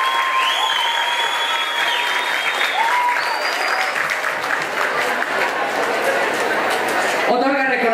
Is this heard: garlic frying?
no